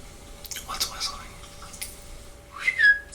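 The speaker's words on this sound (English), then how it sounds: "What's whistling?" Short, thin whistling notes come and go among soft breathy noises, ending with a brief rising whistle, fairly faint.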